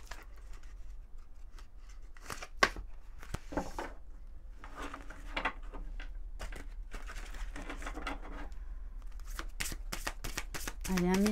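Oracle cards being shuffled to draw an advice card: repeated crisp riffling bursts with short pauses between them, and a low voice speaking softly underneath.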